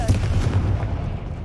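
A Confringo fire spell goes off in a Hogwarts wizarding video game, a loud booming blast with a rumbling low burst that holds steady for about a second and a half, with some voice faintly mixed in.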